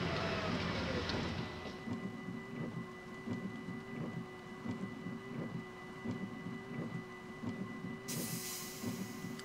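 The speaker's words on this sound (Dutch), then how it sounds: "Al regent het nog wel." Steady rain in Train Simulator 2015, falling around an Arriva GTW train stopped at Barneveld Noord station on the Valleilijn, a constant hiss with low rumbles and faint rhythmic knocks beneath, no voices.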